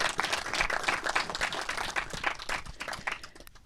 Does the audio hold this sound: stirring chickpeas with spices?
no